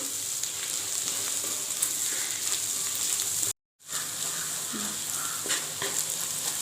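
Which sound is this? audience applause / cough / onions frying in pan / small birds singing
onions frying in pan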